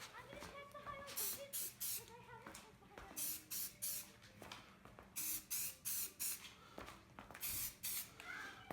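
Short hissing bursts of primer from an aerosol spray can coating a lantern fount, about a dozen quick sprays in a loose rhythm, close and fairly loud, with faint talk underneath.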